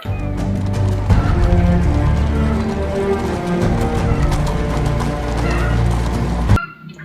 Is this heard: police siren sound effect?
no